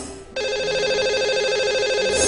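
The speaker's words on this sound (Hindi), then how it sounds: "आइए उन्हें सबसे पहले नंबर लगाते हैं।" A telephone rings out on a call being placed to a caller on a radio show, a steady electronic ringing tone that starts after a brief pause and holds, close and clear, with no voices.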